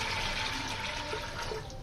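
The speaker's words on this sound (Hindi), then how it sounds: "अब इसके अंदर हम पानी ऐड कर देंगे।" Water pours steadily into a pot of black chickpeas for a street-style kala chana recipe, making a continuous close rushing, splashing stream with no talk over it.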